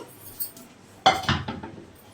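A few sharp clattering knocks of kitchenware being set down and moved, one bright metallic clink early, then a cluster of handling noises.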